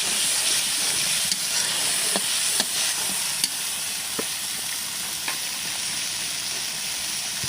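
Tilapia fish frying in a well-cooked spice paste, a steady broadband sizzle and hiss running throughout with occasional faint scraping clicks of stirring, no voices.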